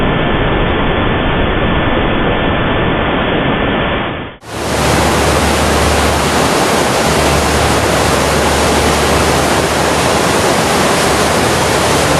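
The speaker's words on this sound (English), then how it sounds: "That roar down the mountainsides." A muddy flood torrent roars down a mountainside in Gansu Province, China, a loud continuous rushing wash that cuts abruptly to an even broader, harsher roar partway through.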